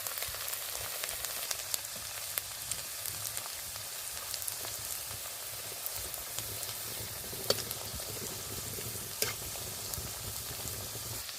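Potato roll samosas fry slowly in oil, an even, fairly quiet crackling sizzle with scattered sharp pops throughout, no talk.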